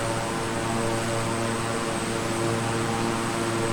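A King Air 350i twin-engine propeller plane in Microsoft Flight Simulator drones steadily and loudly, its engine hum holding an even, unbroken tone throughout.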